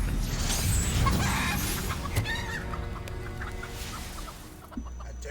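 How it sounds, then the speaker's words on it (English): A chicken clucks in the Hogwarts Legacy video game after a transfiguration spell, its busy clucks and squawks sitting up front over a steady bed of game ambience and mechanical creaks. "I turned you into a chicken."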